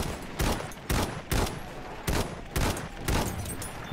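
Gunfire in the Battlefield 1 video game: about six loud, close bursts of rapid shots separated by short gaps, with a steady din of battle noise between them.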